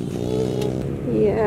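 Dirt bike engine being throttled, a close, steady motor drone that rises in pitch as the rider revs it near the end, with a voice speaking briefly.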